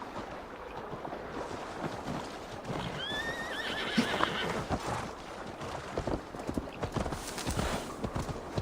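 The horse Skinfaxi trots with soft, irregular hoof clops over windy outdoor ambience, giving a brief whinny partway through, all fairly faint and distant.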